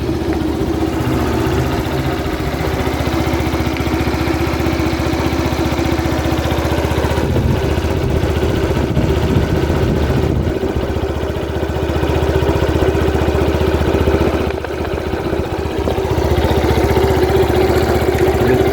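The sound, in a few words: small motorcycle engine idling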